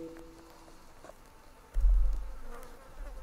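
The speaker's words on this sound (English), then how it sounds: "A load of bees here." Bees buzz steadily at low level, joined by a louder, closer drone that swells midway and then fades back, with no talk over it.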